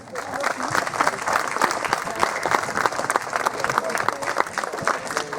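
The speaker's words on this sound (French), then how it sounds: "je voudrais qu'on applaudisse toute la communauté chinoise qui a tant travaillé pour nous à la Réunion." A crowd at a 2015 lantern festival in Saint-André, Réunion, applauds steadily for the whole clip, with dense, sustained clapping and a few scattered voices.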